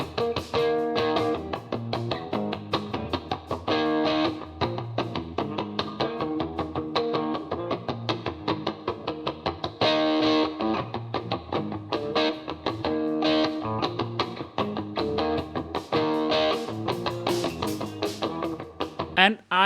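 A distorted electric guitar, processed with a de-bleed plugin in RX 12, plays a busy, rhythmic riff continuously, with dense strummed chords and sharp picked notes at steady volume.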